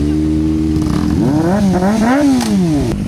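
A Suzuki Raider motorcycle engine revs loud and close, climbing and dropping in pitch through several throttle blips with steady engine roar throughout.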